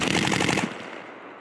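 Quick burst of rifle shots at a Marine Corps firing range, about half a dozen rapid close cracks followed by a fading echo.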